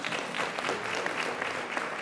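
Audience applause at a national charismatic renewal conference, a brief, dense burst of clapping from a crowd.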